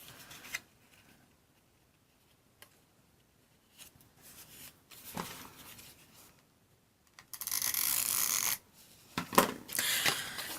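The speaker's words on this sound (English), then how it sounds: "Just rub that right off your craft mat" Hand rubbing excess material off paper and a craft mat while making a box card, heard as short quiet scrapes that build into a louder sustained rubbing burst, then a few more rubs near the end.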